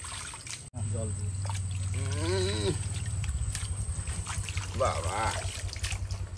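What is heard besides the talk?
water pouring in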